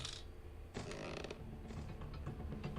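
Doors in the horror video game Granny creak and rattle open, with a short mechanical clatter and grinding creaks, heard alone and fairly faint.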